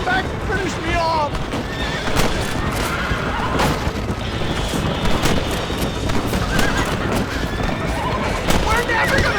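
Horses whinny and hooves clip-clop in a Red Dead Redemption gunfight scene, with loud booms, crashes and dense game music filling the mix throughout and voices speaking over the action.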